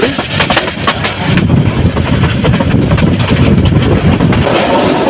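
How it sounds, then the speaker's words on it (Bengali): Train rolling across the Bir Sreshtho Motiur Rahman rail bridge, a loud continuous rumble with rhythmic clickety-clack of wheels over the span, close and unbroken. "তো ট্রেনটি এখন বীরশ্রেষ্ঠ মতিউর রহমান রেল সেতু অতিক্রম করে যাচ্ছে"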